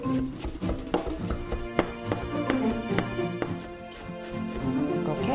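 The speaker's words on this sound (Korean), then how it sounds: "제가 조금 전에 자른 가지 속이 있어요. 이건 버리는 게 아니고요. 얘도 잘게 다집니다." A knife finely minces scooped-out eggplant flesh on a cutting board, producing quick, irregular taps and clacks in a busy near rhythm that runs throughout.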